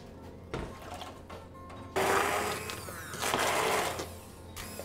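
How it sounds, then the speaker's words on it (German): A kitchen blender purées food in short bursts, its motor whirring louder at two points and dropping back between them, close and without voices. "Dann pürieren wir das mal."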